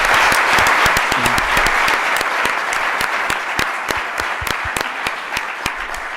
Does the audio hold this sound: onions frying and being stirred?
no